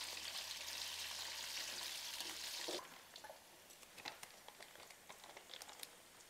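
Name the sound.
potatoes frying in oil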